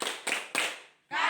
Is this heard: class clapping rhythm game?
yes